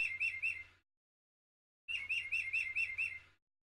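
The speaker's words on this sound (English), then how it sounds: "they got this clock that has bird chimes every hour" A clock's bird chime marks the hour with bright chirping tweets, a short burst of three calls, a pause, then a longer run of about seven chirps, clear and close.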